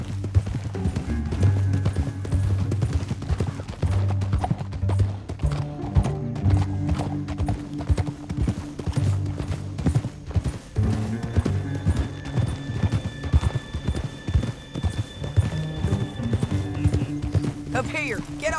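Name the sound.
horse hooves clip-clopping in a video game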